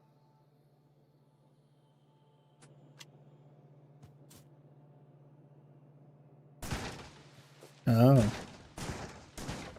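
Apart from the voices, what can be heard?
shotgun firing in a video game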